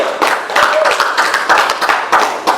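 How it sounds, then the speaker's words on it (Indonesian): A small audience at a literary gathering claps in uneven, sharp bursts, close and loud, with distinct individual hand slaps rather than a smooth roar, and a voice faintly underneath. "Tepuk tangan dong."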